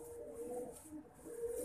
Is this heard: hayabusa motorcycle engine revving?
no